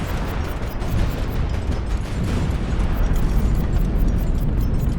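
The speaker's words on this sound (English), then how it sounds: "Here we go with a full barrage" Lilith's tower ship unloading a full barrage in the video game Highfleet, a dense, continuous rumble of heavy cannon fire and explosions with no gaps, loud and sustained.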